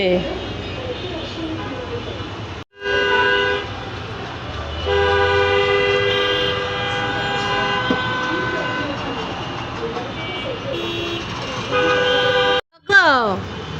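Busy street traffic outside with several loud, sustained car horn honks, some long and some short, and voices audible over the steady road noise.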